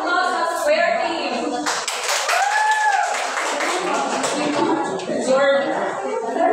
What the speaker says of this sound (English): let's give a round of applause to the Square team